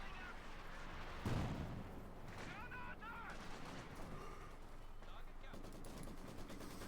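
German artillery shells pound a position in the real-time strategy game Company of Heroes 2, with a heavy explosion early on and scattered crackling gunfire and blasts afterward, all fairly faint and distant.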